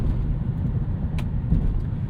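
A 1998 Lexus GS 400 cruising with its automatic gearbox in ECT power mode gives a steady, low engine and road rumble from inside the cabin, even and unbroken, with no talking.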